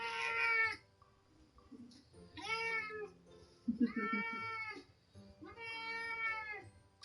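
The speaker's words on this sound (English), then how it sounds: "She's a very vocal cat." A talkative pet cat named Roxanne meows loudly and repeatedly, four long drawn-out vocal cries close by, separated by short pauses with quiet sounds between.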